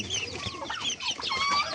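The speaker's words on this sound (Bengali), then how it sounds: "এগুলো সব দেশি পিওর দেশি মুরগি" Desi chickens cluck continuously at close range, with overlapping calls and short squawks from several birds.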